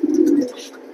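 A pair of racing pigeons gives a short, low, close coo that fades within about half a second.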